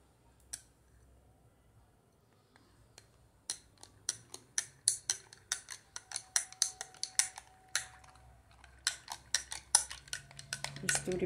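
A spoon clinking rapidly against a cup or glass while stirring milk with a heaped spoonful of cornstarch, quiet at first, then a fast run of sharp, close metallic taps.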